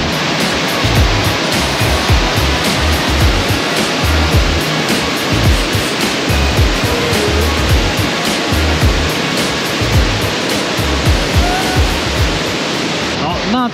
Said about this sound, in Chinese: 那再让他享受一下这个瀑布的壮观的美景哦。